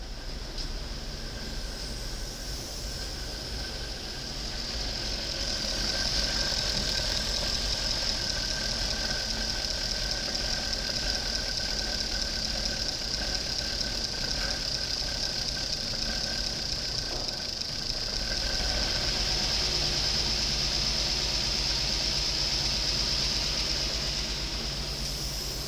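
A 2001 Jaguar S-Type with a 4.0 V8 runs on a wrecking-yard engine test, idling steadily with a constant mechanical hum and whine that rises slightly and holds for the whole stretch.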